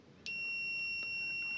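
Continuity beep of a Hioki DT4256 digital multimeter, one steady, high, clear electronic tone starting abruptly and holding continuously at close range.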